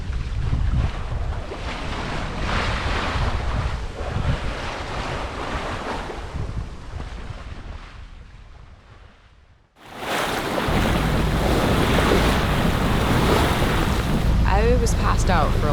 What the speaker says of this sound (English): The sea's got a little bit rougher earlier today, but right now it seems pretty mellow.